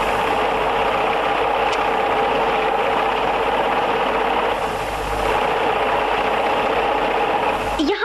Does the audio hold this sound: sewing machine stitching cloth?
yes